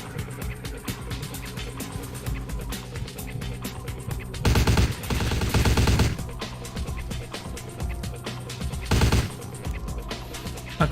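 Sniper fire in Vampire the Masquerade Bloodlines comes as sharp loud bursts of gunfire at two points over a busy background of game sounds and music.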